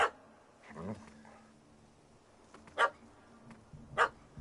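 A dog barks in The Witcher 3, several sharp separate barks spread over a few seconds with a low growl or whimper between them, fairly close and loud against quiet game ambience.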